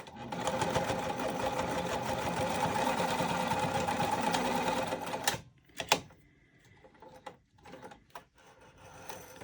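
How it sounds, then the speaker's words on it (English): A sewing machine stitches through thick fabric for a bag, running loud and steady for about five seconds before stopping, followed by a few scattered clunks and handling sounds. "we're going to sew it about 1/2 inch. And this can be pretty thick depending on the fabrics that you use, so just go slow if you need to."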